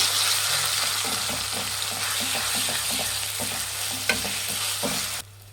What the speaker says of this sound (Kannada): ಸೈಡಿಗೆ ಹಾಕ್ಕೊಳ್ಳಿ, ಎಣ್ಣೆ ಸಿಡಿದ್ಬಿಡುತ್ತೆ